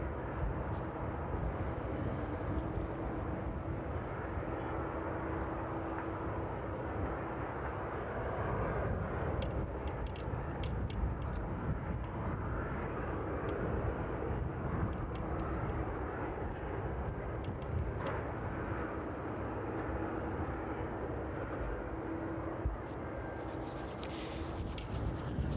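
A Maersk cargo plane in from Belfast turns overhead on its approach to East Midlands Airport, its engines making a faint, distant rumble that holds evenly throughout.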